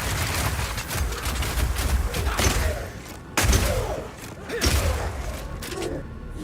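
Rapid Shot firing permafrost ammunition in Path of Exile 2, a dense run of impact thumps and booms with bursting ice crystals, loud and continuous over game effects for most of the stretch.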